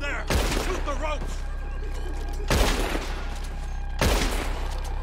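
Gunfire in the video game Red Dead Redemption 2, three loud, booming bursts of shots spaced a couple of seconds apart, each with echoing tails over a constant low rumble.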